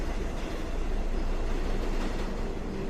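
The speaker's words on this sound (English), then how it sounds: "the train on the other track zoomed by." A train on a neighbouring track zooms past, a dense, steady rumble with faint rattling that stays loud and close for the whole stretch, no voices.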